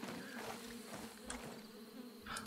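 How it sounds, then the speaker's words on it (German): Bumblebees buzz in the video game Ghost Recon Breakpoint, a faint continuous droning hum with a few brief swells as the insects pass, heard alone without talk. "Das sind ziemlich fette Bienen. Hummeln."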